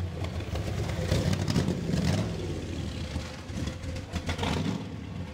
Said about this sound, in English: listen to that Corvette